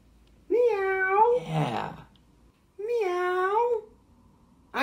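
A voice imitates a cat with two drawn-out, wavering meows separated by a pause. A short breathy noise follows the first meow.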